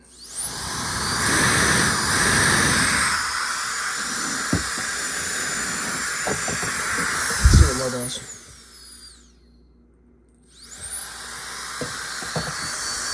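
A KiCA Jet Fan 2s handheld blower with vacuum kit running up close, a loud high whine and rushing hiss that cuts off, then spins back up, with a person speaking over it and some handling knocks.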